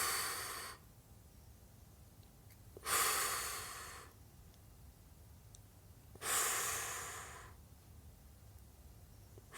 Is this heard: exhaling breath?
yes